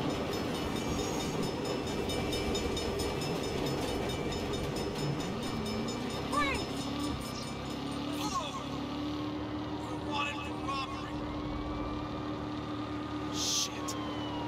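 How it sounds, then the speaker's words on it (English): A train rolls past in the video game Saints Row, a sustained rumbling, clattering wash with steady rail noise and tonal squeals, mixed with sirens and game sounds throughout. "Hell of a time for a train."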